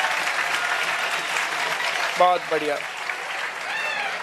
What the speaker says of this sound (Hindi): लड़का भी ताली बजाने लग गया